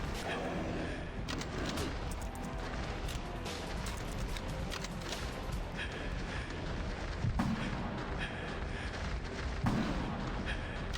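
Rapid gunfire aimed at a charging bear in the video game Yakuza 5 Remastered, steady bursts of loud, close shots forming a dense, continuous barrage with a couple of sharper cracks standing out.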